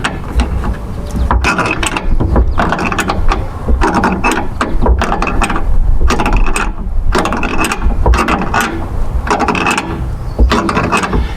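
Impact wrench driving coarse-thread gas tank strap nuts on a 1968 Mercury Park Lane, sounding as repeated loud rattling bursts of hammering with short pauses between them, close and continuous over about eleven seconds.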